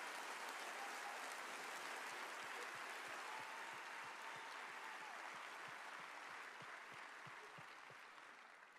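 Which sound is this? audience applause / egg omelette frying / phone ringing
audience applause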